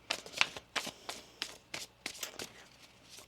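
A deck of tarot cards is shuffled by hand in quick bursts, a run of crisp riffling and slapping card sounds spaced irregularly, close and alone without any talk.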